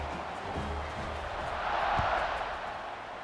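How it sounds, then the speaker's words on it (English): Steady crowd buzz fills the stadium in a college football video game against Vanderbilt after a score, a broad continuous roar that swells slightly toward the middle of the moment, with no clear voices on top. "this crowd is buzzing after that last score"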